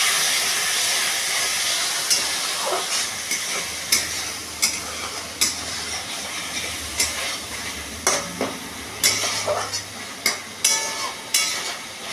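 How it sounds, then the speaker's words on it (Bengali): Ground cumin and turmeric paste sizzling and frying in a hot pan for a fish curry, a steady hiss broken by sharp stirring clatters against the pan, close and moderately loud, with no talking. "এটা দিয়ে মশলাটা কষবো।"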